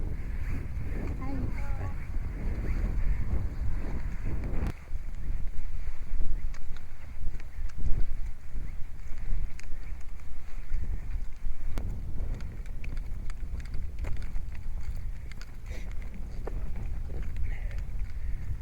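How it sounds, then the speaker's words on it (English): Breezy headwind buffets the microphone on a straight outdoor trail, a loud, low, gusting rumble that swells and eases, with voices talking over it. "Got the wind in our face."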